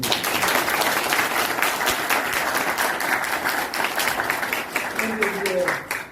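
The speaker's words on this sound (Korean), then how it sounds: "우선 박수 한번 보내주십시오." Sustained applause from a seated audience at a citizen auditor appointment ceremony in Gwangju, dense steady clapping throughout with a voice emerging faintly near the end.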